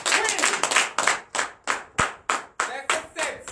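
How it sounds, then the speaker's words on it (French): A church congregation claps during a night worship and prophecy service, loud rhythmic clapping at close range with a steady beat, accompanied by faint voices underneath. "Donnez l'acclamation de Jésus."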